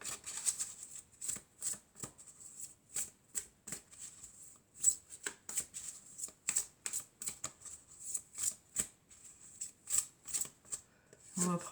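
Oracle cards are shuffled in a rapid, regular riffle of crisp papery flicks that continues throughout, close and fairly soft, with a brief voice near the end.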